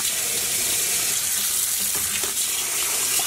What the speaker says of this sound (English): we are using cool tap water for the washing